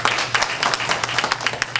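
An audience at a community gathering applauds steadily, a dense fairly loud patter of many hands clapping with no break throughout the short stretch.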